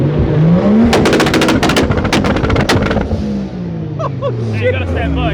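A straight-piped Corvette Z06 revs hard and loud, its exhaust crackling in rapid machine-gun-like pops before falling back to a rough, burbling idle as the pitch drops.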